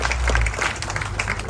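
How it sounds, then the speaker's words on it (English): Outdoor audience applause at a railroad corner groundbreaking ceremony, a steady dense patter of many hands clapping at moderate level for a short burst, with a faint low rumble beneath. "Please give them a round of applause."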